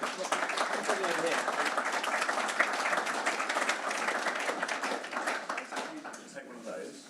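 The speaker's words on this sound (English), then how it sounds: "let's give a little round of applause" Conference audience applause after a welcome address at a housing summit: sustained, crisp clapping from a crowd that holds steady, then thins and fades toward the end, with a voice briefly heard.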